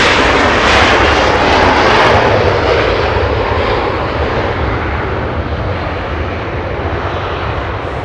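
An airliner arriving at Los Angeles International Airport gives a loud, sustained engine roar that fills the whole stretch and slowly eases.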